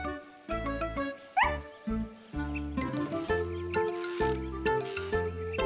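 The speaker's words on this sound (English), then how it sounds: "She was wagging her tail and barking happily." A cartoon dog barks happily in a quick run of bright, tonal yaps over a playful musical background.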